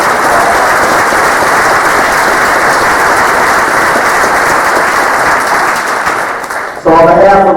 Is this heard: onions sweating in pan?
no